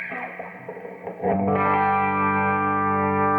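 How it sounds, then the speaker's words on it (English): A loud, sustained distorted electric guitar chord rings out with heavy effects and a slight chorus shimmer, following a brief fuzzy strum. "So this is the basic amp tone."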